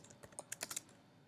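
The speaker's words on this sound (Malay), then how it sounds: "nak resize, kita tekan Ctrl T" Keys pressed on a computer keyboard while working in Photoshop, a quick cluster of about eight light, close clicks over roughly a second, quiet and without talk.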